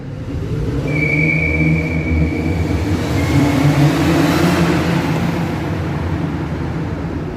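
Mercedes W204 C200 Kompressor engine running with the air filter off, a loud steady drone with a thin high whine from the supercharger, heard close and alone.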